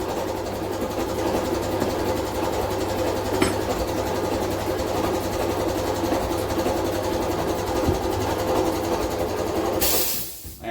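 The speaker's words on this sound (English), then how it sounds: "Turn that compressor off, that's getting too noisy." A steady mechanical drone runs continuously at an even level, cutting off abruptly near the end.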